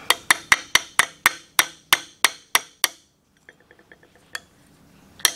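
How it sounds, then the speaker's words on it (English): A hammer strikes a metal part during a chain grinder restoration, about ten sharp, evenly spaced ringing blows in a quick run, then a few lighter taps and one last solid hit, close and loud. "grab your hammer again"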